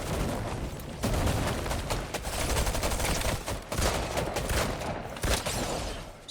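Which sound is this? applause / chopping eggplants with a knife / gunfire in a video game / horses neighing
gunfire in a video game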